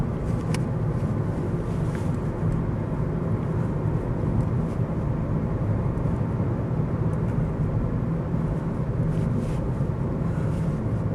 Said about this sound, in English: I think it's just low speed noise from the tyres.